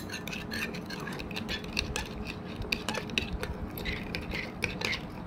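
A spoon stirring batter in a bowl for homemade vanilla essence, quick repeated clinks and taps of metal on the bowl in an uneven rhythm, close and fairly quiet with no voices.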